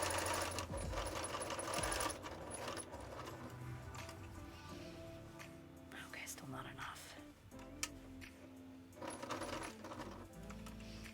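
A sewing machine quilts a goose coat, its needle running in steady mechanical bursts with brief pauses, sitting under a soft, close voice that talks throughout.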